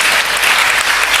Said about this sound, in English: Let's give a clap offering unto the Lord.